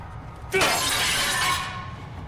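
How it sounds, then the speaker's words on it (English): Glass shatters in the video game Silent Hill: Downpour, a single sharp crash followed by a bright, sustained scatter of falling shards that fades over about a second against a low background hum. "I'm just breaking glass for the sake of breaking glass here."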